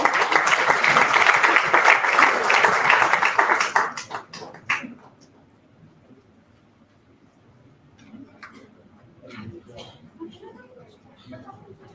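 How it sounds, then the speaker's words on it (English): An audience at a physiotherapy conference award ceremony applauds strongly for about four seconds, then the clapping fades into scattered claps and room noise. "Everyone, huge round of applause for this."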